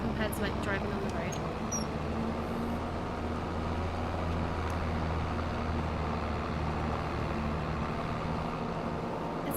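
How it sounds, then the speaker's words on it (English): A farm vehicle in Farming Simulator 25 rolls steadily over gravel with a constant engine hum and dense crunching texture, loud and unbroken throughout. "I feel like that's making a gravelly sound."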